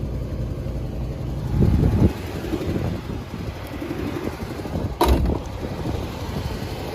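An old 1973 Chevrolet Monte Carlo engine idling high with a steady low rumble and some wind noise, one brief sharp click partway through, fairly loud and close.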